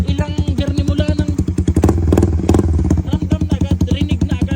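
A motorcycle with a rammer exhaust pipe revs up close and loud, its rapid throbbing pulses swelling into a heavier roar midway before settling back into a fast, even beat.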